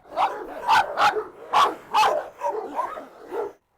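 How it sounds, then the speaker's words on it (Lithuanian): Several dogs, among them a powerful young rottweiler, bark excitedly at close range in about seven loud, rough bursts with short gaps between them and no talking. "Visi šunys tikrai labai užsivedė."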